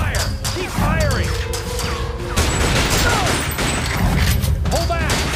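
Rapid volleys of gunfire in the arcade shooter Time Crisis 5, played with a lightgun: clattering bursts, metallic whines and crashing impacts, close and loud, with voices mixed in.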